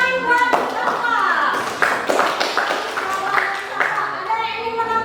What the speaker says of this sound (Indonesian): Tepuk tangan buat Safwa.